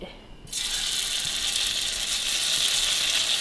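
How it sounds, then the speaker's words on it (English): Tofu pan frying in hot oil in a wok kicks into a loud, steady sizzle after half a second of near quiet, then keeps up a dense, even crackle close by with no talk. "I'm going to pan fry the tofu until the tofu nice and golden and cooking on both sides"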